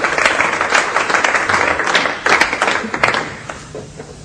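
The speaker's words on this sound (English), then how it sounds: "You can applaud. It's all right." Audience applause welcoming a young student to the front at a music master class, a dense, steady wash of many hands clapping throughout, close and fairly loud, with a few sharper individual claps standing out.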